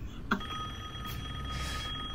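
Telephone ringing in Resident Evil Village, a steady electronic ring sustained across the clip amid low ambient game noise in a castle.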